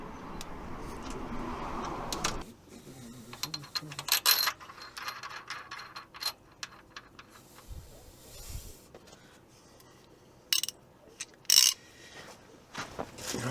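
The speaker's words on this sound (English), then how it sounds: "Then I just undo the camshaft sprockets." A hand ratchet loosens camshaft sprocket bolts during a timing chain replacement on a 2011 Relay/Boxer campervan engine, with bursts of rapid metallic clicking, pauses, occasional clanks of tools, and quiet workshop background.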